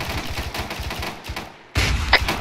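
Weapons fire in a video game combat scene, with a fast stuttering burst of shots, a brief lull, then a loud heavy blast from an AT4 rocket launcher near the end.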